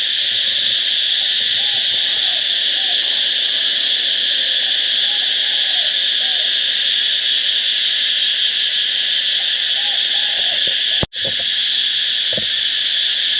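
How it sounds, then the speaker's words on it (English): A dense, continuous high-pitched insect drone fills the air at Karon Beach, Phuket, loud and unbroken, like cicadas buzzing in the trees, with faint hooting calls beneath. "It is just the bugs in the trees, like the cicadas or locusts or something"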